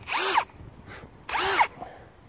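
A Ryobi PSBHM01 hammer drill spins on its low setting to tighten a bit in the chuck, two short whirring bursts about a second apart, close and fairly loud.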